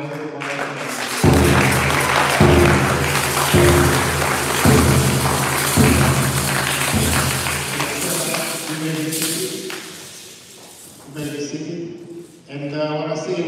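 Wedding congregation at a nuptial blessing clapping hands in a steady rhythmic beat, loud and close, with a spoken voice and music-like tones mixed in.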